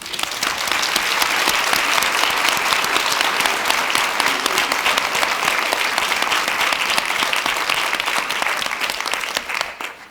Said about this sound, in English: I think we should give them an applause